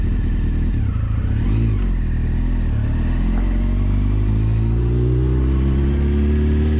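A 2006 Honda CBR600F motorcycle engine running close and loud as a continuous rumbling drone, with pitch rising and falling through revs and clattery mechanical undertones.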